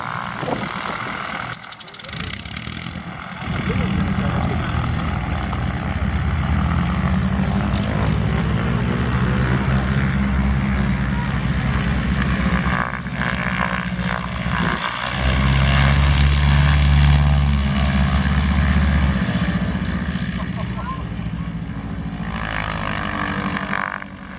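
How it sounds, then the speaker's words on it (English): A propeller plane's engine roars steadily and loudly close by, heard from directly in its wind wash, with heavy wind buffeting and a brief dip before it swells again. "the wind noise you hear is from the airplane."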